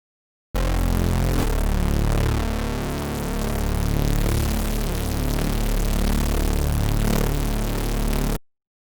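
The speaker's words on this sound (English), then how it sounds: "I like to put a little bit of noise on top of that just to give it a little bit more grit" A full, sustained synthesizer tone with a gritty layer of noise laid over it, loud and dense with a slight dip in level midway, starting and stopping abruptly.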